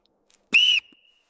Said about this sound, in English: A whistle isn't just for distress